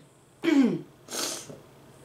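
Two sharp, wet sniffs or snorts close to the listener, separated by a short pause, loud against a quiet room.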